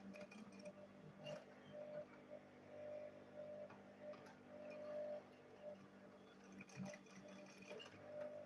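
A sewing machine runs steadily while stitching a school bag, its fast mechanical whir and ticking needle held at an even, moderate level through the whole stretch with a few small bumps of handling.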